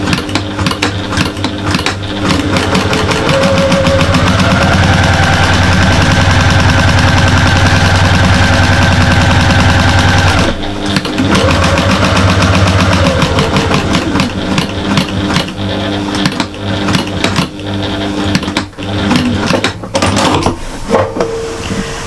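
A sewing machine stitching backwards and forwards on a cushion, a loud close mechanical whir running steadily for about ten seconds, then stopping and restarting in shorter uneven bursts.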